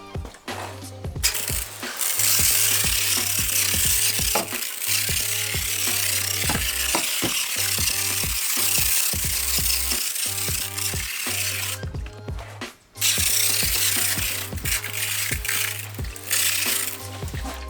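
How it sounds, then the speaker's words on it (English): Hot water hisses from a sprayer onto the fabric lining of a car trunk in steady close bursts, with brief pauses and mechanical clicks between passes. "I spray some hot water onto this material so that kind of debris kind of lifts up"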